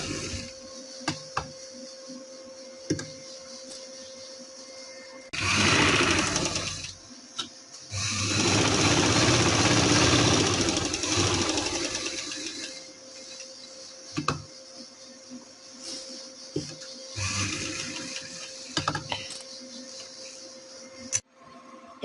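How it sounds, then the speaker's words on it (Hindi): Sewing machine stitching a fitting seam on a garment, running in two long steady bursts of motorized whirring with quieter handling and clicks between and after. "अब हम फिटिंग की सिलाई लगाएंगे।"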